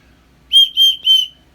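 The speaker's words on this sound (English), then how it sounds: "It's a dog training whistle." Three short, shrill blasts of a dog training whistle in quick succession, loud and close against a quiet background.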